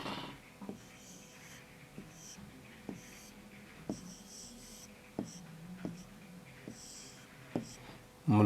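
Handwriting in Urdu on a page, with soft, scratchy pen strokes and light repeated taps at a slow, irregular rhythm, close and fairly quiet, alongside faint breathing and little else.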